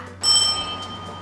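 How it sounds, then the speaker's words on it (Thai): A doorbell rings once inside a home as a guest arrives, giving a short bright chime that starts abruptly and then fades away. Nobody speaks over it, and a soft steady hum continues underneath. "เสียงออดมาแล้ว"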